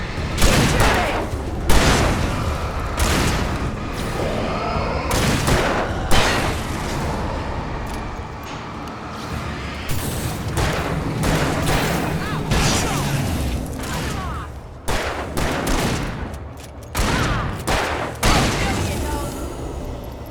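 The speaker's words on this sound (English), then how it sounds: "Keep shooting!" Sustained gunfire in Alan Wake Remastered, a dense run of loud shots and heavy booms spread across the whole stretch, irregular and unbroken, with an in-game voice calling out partway through.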